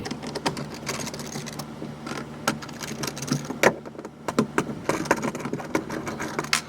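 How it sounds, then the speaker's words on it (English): Screws are worked out of a Hobie Outback kayak during a fishfinder install, with a steady run of close, sharp plastic-and-metal clicks and rattles from the tool and hardware. "You're just going to take these 3 screws off like we did with the transducer cable."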